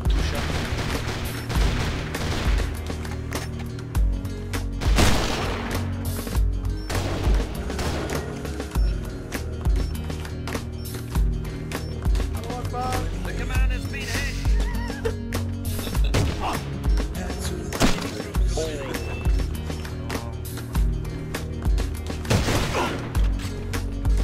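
Dense, continuous video game gunfire with repeated loud shots and bursts running through the whole stretch, layered over a busy game soundtrack.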